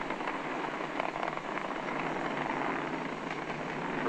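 SpaceX Falcon 9 rocket engines thunder during the crew Demo 2 launch, a steady, broadband roar like tearing air, continuous and distant with no talk over it.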